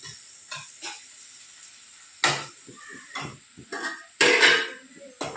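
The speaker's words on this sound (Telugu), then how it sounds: "ఇది 1 నిమిషం ఫ్రై కావాలి." Masala for an egg curry fries in a pan under a quiet sizzle, broken by sporadic, sharp scrapes and clinks of a spoon against the metal, close by and without talk.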